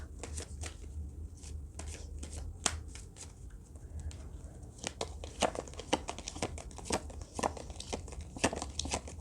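Romance angel oracle cards being shuffled by hand, a steady run of crisp riffling card flicks that builds into denser bursts, close and fairly loud, with no voice over it.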